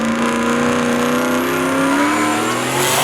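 A Chevy Camaro and a Ford Mustang drag racing side by side off the starting line, engines roaring loudly and rising in pitch as they accelerate down the track.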